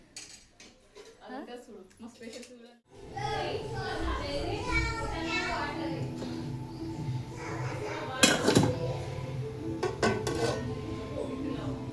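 Pots and dishes clatter and clink steadily through the clip as someone washes them after a home Ugadi festival meal, with sharp metallic knocks standing out, while children and adults talk nearby.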